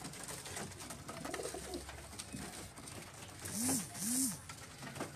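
Pigeons bred for flying coo on a rooftop loft, two clear rising-falling coos standing out near the end over soft background noise and faint rustling.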